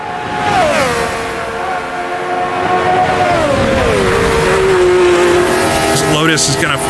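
Race car engine at full throttle over a hilltop on the 1971 Nordschleife, a loud continuous roar whose pitch sweeps down through gear changes, with a commentator talking over it throughout.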